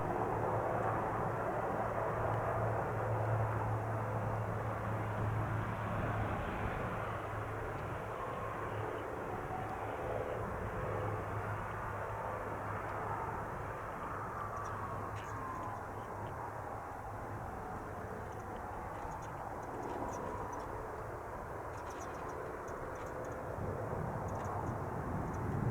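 A fixed-wing aircraft takes off from runway 8 right at Spirit of St. Louis Airport, a steady, broad engine roar holding throughout at moderate distance, with a low hum underneath and no talk.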